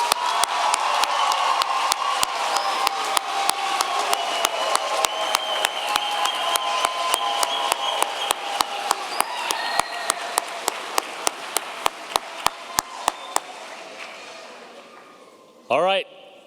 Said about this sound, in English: let's give the class of 2023 a big round of applause